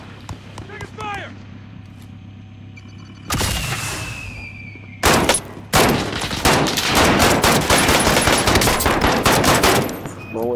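Automatic gunfire in Call of Duty Modern Warfare erupts in loud bursts, starting with a short volley and then a long, dense stream of rapid shots, while voices talk over the action.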